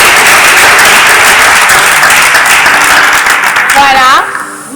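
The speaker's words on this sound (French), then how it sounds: "Est-ce qu'on peut applaudir le Seigneur puisque nous sommes là?" A church congregation at a Christian youth gathering bursts into loud, dense applause that holds for about four seconds, then fades as a voice begins speaking over the tail of the clapping.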